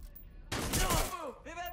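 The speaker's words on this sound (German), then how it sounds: "Wir werden beschossen." Gunfire in the video game Watch Dogs: Legion, a short loud burst of shots followed by brief whooshing tails, near and alone.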